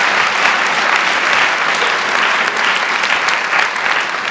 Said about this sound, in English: Y'all clap for her, please.